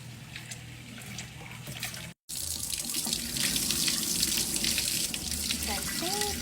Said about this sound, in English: that's another one of the reasons why you want to wash your rice real good.